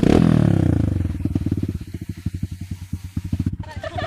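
A motorcycle engine idles up close with a rapid, uneven putter that slows and grows choppier, its pulses stuttering as the motor winds down.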